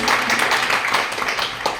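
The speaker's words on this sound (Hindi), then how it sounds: "इनके लिए हम इन्हें जोरदार ताली के साथ स्वागत करना चाहेंगे।" An audience at an event in Darbhanga applauds to welcome guests: a dense, steady patter of many hands clapping together for a couple of seconds.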